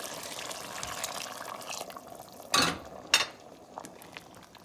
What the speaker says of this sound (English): I'm gonna add here another 3 cups of water.